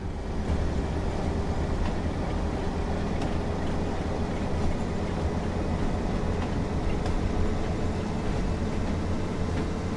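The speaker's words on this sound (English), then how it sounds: "The train automatically slows the engine a little and changes the gears and revs it back up again." Class 142 Pacer diesel railbus engine in Train Sim World 4, a steady droning rumble with rattling carriage noise, continuous and loud throughout with no talking.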